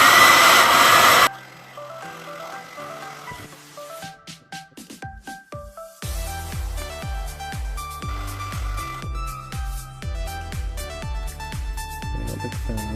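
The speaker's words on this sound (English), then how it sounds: "Got a hairdryer." A Dyson hairdryer with an overheating fault blows loudly with a steady broadband rush and a whine for just over a second, then cuts off. Tinkling, jingle-like music plays on alone for the rest.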